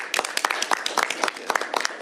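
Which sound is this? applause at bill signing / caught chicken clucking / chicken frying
applause at bill signing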